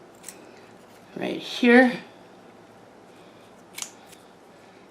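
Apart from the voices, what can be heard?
scissors cutting purple velvet plant stems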